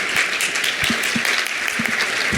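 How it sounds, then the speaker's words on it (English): An audience applauds a panel at a real estate agents' conference in Palm Springs, steady clapping from a modest crowd with a few sharper individual claps standing out near the listener. "Give a huge round of applause for our panel."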